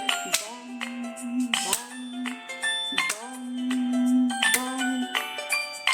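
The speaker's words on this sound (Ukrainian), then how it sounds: "І знову великий дзвін." Several bright, ringing strikes of a large bell in a children's music class, each one's tone sustaining before the next hit comes, repeated about four times at a moderate pace.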